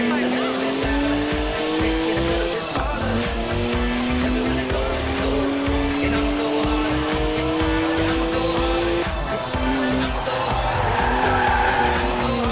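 A BMW drifting in Forza Horizon 4, with continuous loud tire squeal over a revving engine that holds high and shifts pitch as the slide goes on. Someone talks over it.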